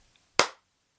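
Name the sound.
slow clap from the father in the film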